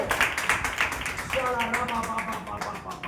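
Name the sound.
hand clapping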